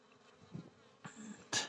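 Carniolan honey bees buzz faintly around a beehive where there is some robbing and fighting, with brief soft wingbeat drones and a louder buzz passing close at the end.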